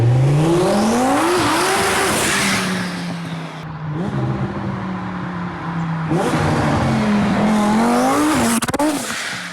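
A twin-turbo 2020 Audi R8, rebuilt after a wreck, roars past twice with rising revs and squealing tires. The loud engine pitch climbs as each pass happens, with a brief dip in between and no talking.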